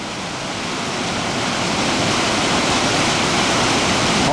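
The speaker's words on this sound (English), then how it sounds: "The water weaving and twisting underneath the rocks." Steady, loud rushing water of a Scottish canyon river weaving and twisting under rocks near Arrochar, a continuous broad churning roar, with no voices.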